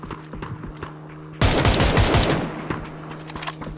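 Dense burst of automatic gunfire in PUBG breaks out suddenly and loudly, rattling for about a second before trailing into scattered shots and fading echoes.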